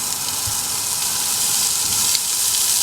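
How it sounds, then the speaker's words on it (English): Carrots sautéing in lard with Sichuan peppercorn in a camp pan, giving a steady, close sizzle and hiss that runs the whole time without talk. "we're going to saute that until the carrots are a little tender"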